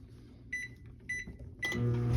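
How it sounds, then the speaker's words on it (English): A microwave oven heating four cups of bait material gives a few short tonal beeps and clicks, then settles into a loud, steady running hum with no voices. "we're going to get this 4 cups in the microwave right there"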